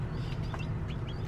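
Backyard chickens clucking softly at a distance, a few short calls scattered over steady low outdoor background noise, quiet and brief.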